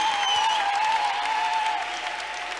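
A church congregation claps in a sustained round of applause during a prayer service, full and close, with a steady sung or held tone carrying through it.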